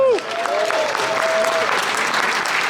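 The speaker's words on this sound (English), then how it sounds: "Give yourselves a round of applause." Audience applause fills a Comic Con panel room at New York Comic Con, a dense, steady roar of many hands clapping with a brief tone at the start, sustained and loud throughout.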